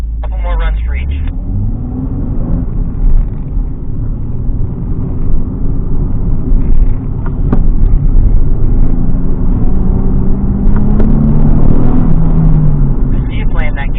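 A car accelerates through a slalom course, its engine rumbling steadily for the whole stretch with rising and falling pitch through the gates, while people talk over it.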